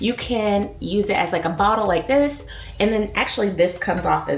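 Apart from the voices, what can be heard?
No distinct noise like a dog, phone or traffic.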